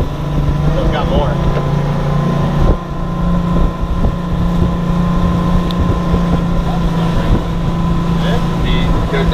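Evinrude E-TEC G2 300 outboard motor pushing a boat at wide open throttle, a loud steady engine drone with rushing water and wind buffeting the microphone, continuous throughout with a voice faintly beneath.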